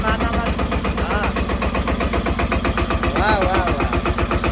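A tractor engine idles with an even, rapid mechanical chugging of medium loudness, and voices talk over it.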